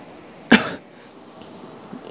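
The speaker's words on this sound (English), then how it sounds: "Sorry for coughing." A single short cough bursts out near and fairly loud, then fades into quiet room tone, heard during a Clash Royale match.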